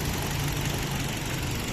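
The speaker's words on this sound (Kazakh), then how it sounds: "мотор жагы ровно иштеп турат, көрүп турасыздар" A 2018 Hyundai Solaris with a 1.6 engine and automatic gearbox idles steadily, a continuous even hum with a low throb, close and constant throughout with no voices.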